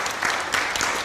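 Church congregation clapping and cheering in praise of the Lord during a worship service, a steady dense wash of applause throughout.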